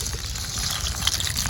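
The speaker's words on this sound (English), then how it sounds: "Got our water boiling. We're gonna go ahead and add the noodles." Noodles go into a pot of boiling water over a camp stove, producing a brief, close, steady bubbling and gushing wash of water.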